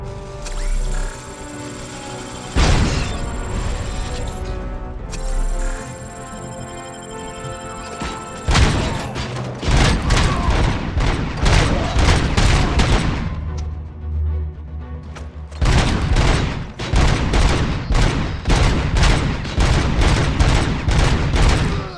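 Gunfire in the video game Robocop: Rogue City during a bank heist breach, dense bursts of shots and heavy thuds running nearly continuously and loud, with short pauses between volleys.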